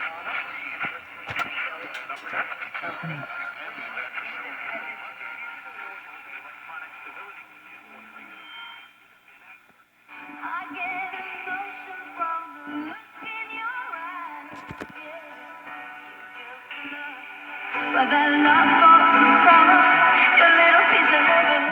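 A GE GD 60 slant-front vintage radio plays a band-limited weather broadcast, thin and tinny, fading briefly midway before returning louder with music-like tones.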